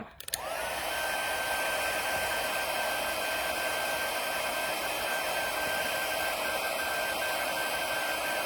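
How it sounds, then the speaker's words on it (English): A heat embossing tool blows steadily and loudly to melt embossing powder on a paper craft card, a continuous whooshing hum starting abruptly and running unbroken, with no talking. "Now that our heating tool is warmed up, it should go a lot faster too."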